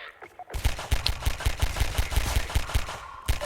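Rapid automatic gunfire in the video game Half-Life 2, a fast regular burst of sharp shots running for about three seconds after a brief pause, loud and close.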